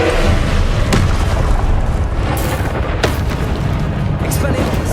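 Booming fire-spell blasts from Confringo in Hogwarts Legacy, played on PS5, hitting as loud dense bursts at about one and three seconds over continuous rumbling combat noise and crackle.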